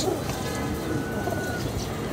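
A pigeon in a rooftop loft in Dhaka coos softly and continuously nearby, with faint background noise underneath.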